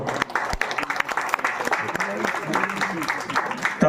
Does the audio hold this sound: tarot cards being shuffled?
no